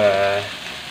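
Beef meat and offal with garlic and ginger frying in a pan, a brief close sizzle that is strongest at first and then eases off, with no talking.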